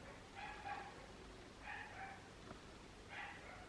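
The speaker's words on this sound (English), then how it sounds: "She's about to be fed, so that's why she's barking." A dog waiting to be fed barks three times, faint and distant, in short bursts spaced evenly about a second apart against a quiet indoor background.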